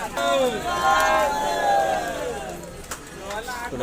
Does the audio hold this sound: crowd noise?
yes